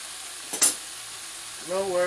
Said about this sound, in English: This is the ultimate food porn, is just watching bacon cook.